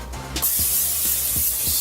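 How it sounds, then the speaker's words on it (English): A brief hiss of olive oil aerosol cooking spray, released in one long close burst with a few soft taps underneath. "you're going to take some olive oil cooking spray"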